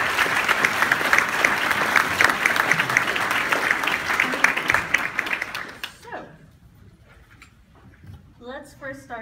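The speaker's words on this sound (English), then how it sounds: "If you can, a round of applause to the Knights of Columbus." Audience applause for the Knights of Columbus at a Theology on Tap talk, a dense crowd clapping for about six seconds before fading, then a few voices and brief talk follow.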